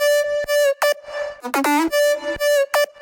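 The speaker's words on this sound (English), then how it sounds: "after adding all the processing, it's like it gets huge and it sounds like this" A bright, buzzy synth lead plays a short melodic phrase with gliding pitch bends, loud and dense with heavy processing, notes separated by brief gaps.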